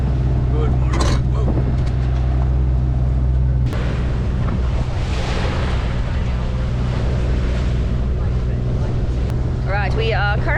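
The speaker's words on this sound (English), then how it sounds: "Alright, we are currently motoring." A sailboat motors across the Sea of Cortez, its engine a steady low drone with water rushing along the hull, under brief talking nearby.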